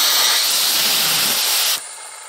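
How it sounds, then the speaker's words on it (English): Compressed air at 50 psi hisses steadily into a GM 8L90 transmission clutch, a loud, continuous rush close by that cuts off sharply near the end, leaving a quieter residual hiss. "we'll go ahead and pressurize this clutch at 50 psi"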